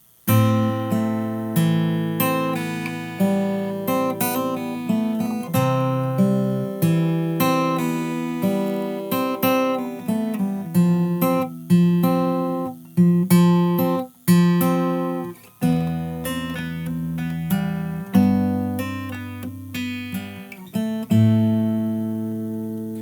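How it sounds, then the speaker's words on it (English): Fingerstyle acoustic guitar playing a song's chorus, with plucked melody over a bass line and steady chord pulses, close and continuous for over twenty seconds with no voices. "So then the chorus all together sounds like this"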